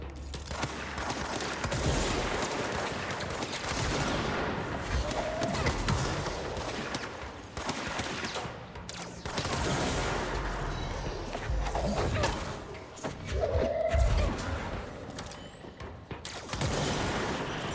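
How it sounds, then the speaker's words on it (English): Gunfire and grenade blasts in the action video game Control, a dense continuous barrage with bursts of shots and heavier explosive hits throughout. "I got fucking people chucking grenades at me."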